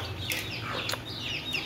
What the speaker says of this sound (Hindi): प्योर असील मुर्गे, फाइटर असील मुर्गे की क्वालिटी क्वालिटी चेक करें बस।